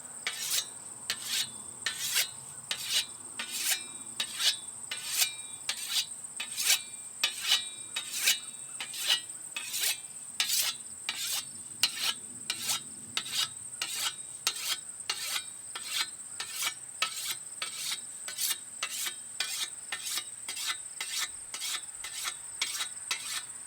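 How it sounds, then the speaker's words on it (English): Fine stone rasping along the blade of an American scythe during sharpening, a steady run of crisp, bright strokes in an even rhythm, close and alone. "After setting the scratch pattern, switch to your fine stone."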